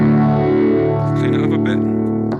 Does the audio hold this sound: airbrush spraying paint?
no